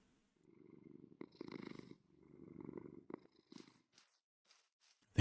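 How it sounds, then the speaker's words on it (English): A cat purrs in the Minecraft video game, a soft rhythmic rumble in slow repeated bursts, fairly quiet, ending with a sharp louder click. "I think I just heard it purring as well."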